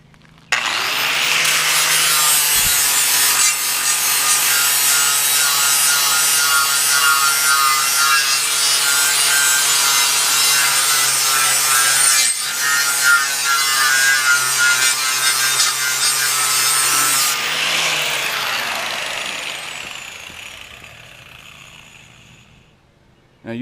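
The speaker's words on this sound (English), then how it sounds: "grinder that has pieces of sandpaper on it" A grinder fitted with a sandpaper disc sands metal for a wok, a loud continuous abrasive whine and rasp that runs steadily for about seventeen seconds, then winds down and fades out.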